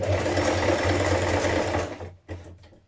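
Domestic sewing machine stitching the final bar of a buttonhole on a New Look 6197 shirt, a steady close whirring run for about two seconds that stops abruptly, followed by a brief faint mechanical sound.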